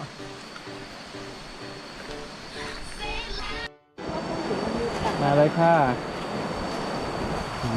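A waterfall in a Thai forest rushes as continuous broadband water noise, cut by a brief dropout. Children and adults talk and call out excitedly over the steady roar.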